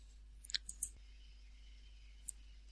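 Computer mouse clicks, faint and close: a small cluster of three or four light clicks, then a single click after a pause in a quiet room.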